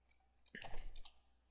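A short cluster of clicks, like a computer mouse being used while building a WordPress page, quiet and close, with a couple of soft taps inside a brief burst and near silence on either side.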